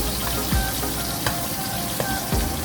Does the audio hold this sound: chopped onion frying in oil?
yes